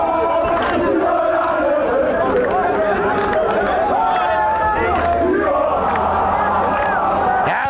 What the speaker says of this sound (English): As the crowd is up in the song, they can feel there's something special coming here